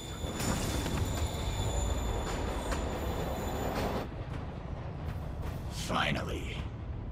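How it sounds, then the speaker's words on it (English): A train in the video game Spider-Man Remastered rumbles steadily with a faint high metallic whine, then the noise thins out as a short burst of voices rises near the end. "Train's moving."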